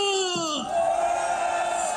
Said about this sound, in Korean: 우리 다 같이 함성 발사!